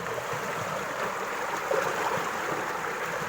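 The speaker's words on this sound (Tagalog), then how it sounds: "napakalakas ang tubig" Strong river current rushing steadily, a broad continuous wash of water close by with a slight swell partway through and no voices.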